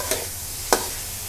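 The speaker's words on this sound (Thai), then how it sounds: "ผัดหมูกับไอ้พริกให้มันเข้ากันนะคะให้มันหอมค่ะ" Minced pork and chili stir-frying in a wok, two distinct spatula scrapes against the pan over a quiet sizzle.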